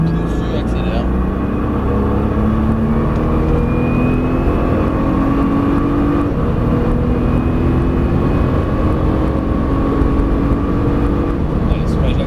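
A race car engine drones steadily on the Albi circuit, holding a loud, close tone that rises gradually under acceleration, while an instructor talks continuously over it.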